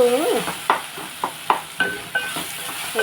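Tomato curry stirred in a hot pan: a series of distinct, close scraping strokes of a spoon through the thick sizzling mixture, roughly evenly spaced, over a steady low frying hiss, with no talk.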